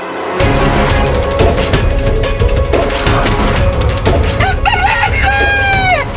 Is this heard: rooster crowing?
yes